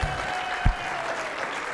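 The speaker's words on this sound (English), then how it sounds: "we need to have one big round of applause for Christina" A conference audience gives a round of applause during a welcome speech on sustainability: a soft, continuous patter of many hands heard from some distance, steady in level, with a faint low hum underneath.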